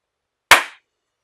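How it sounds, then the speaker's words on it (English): A single sharp hand clap, close and loud, standing alone in silence with a quick decay. "So just clap and then pause for a second"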